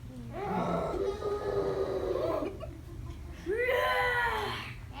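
At a public library reading, children yell in imitation of a roar of rage, with two loud, sustained group shouts separated by a brief pause.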